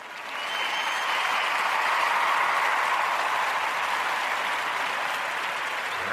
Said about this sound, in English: So let's everybody introduce Aaron Kozak with a round of applause.